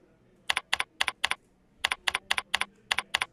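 Login credentials typed on a computer keyboard: crisp, close keystrokes in quick clusters, a brief pause, then another steady run of taps, with no talking.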